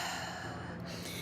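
A forceful breath pushed out through the mouth during a breathing exercise, a single breathy rush of air, close and steady.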